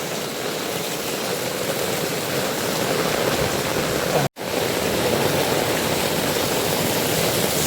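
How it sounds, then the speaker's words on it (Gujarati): Heavy rain pours down in Katargam, Surat, a loud, even roar of falling water that stops briefly partway through and then carries on unchanged. "જેમ જેમ ઓફિસે જાઉં તેમ વરસાદ વધે"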